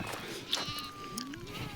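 A flock of sheep grazing in a farm field, with faint bleats coming from a distance over a quiet outdoor background.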